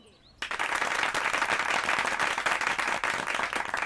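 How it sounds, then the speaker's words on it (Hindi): Audience applause for children chosen for an inter-school marathon, a sudden burst of dense crowd clapping that stays loud and steady throughout. "हम जोरदार तालियां बजाएंगे"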